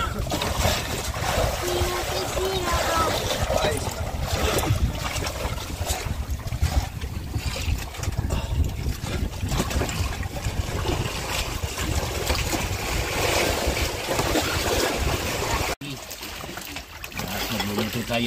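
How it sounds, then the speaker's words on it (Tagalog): Wind blowing steadily over a fishing boat out at sea, a broad continuous rush with water sounds beneath, lasting throughout with a brief dip near the end. "Napakasarap na ng hangin."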